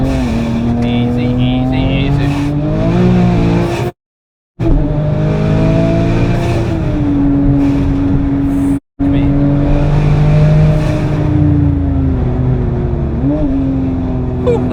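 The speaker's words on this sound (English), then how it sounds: "downshifting is nice" A 1000hp 9ff Porsche Turbo race car downshifts on the Nürburgring, its engine note stepping and rising in pitch between gears, loud and close, cut by two brief silent gaps, with someone talking over it.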